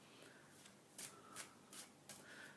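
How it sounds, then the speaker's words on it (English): A deck of tarot cards shuffled for a card reading, soft riffling bursts repeating every half second or so, quiet and close. "I'm just talking as I shuffle, keeping myself busy as I do that."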